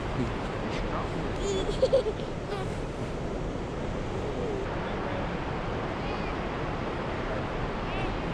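Niagara Falls water roaring as a broad, steady rush, constant and unbroken, with wind buffeting the microphone and a few brief faint sounds early on.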